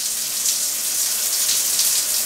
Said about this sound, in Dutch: Die douche loopt.